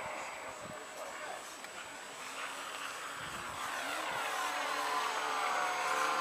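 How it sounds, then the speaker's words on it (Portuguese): Motor running with a steady whirring drone that grows slightly louder toward the end, sounding somewhat unbalanced, with voices faintly present. "Olha o barulho desse motor."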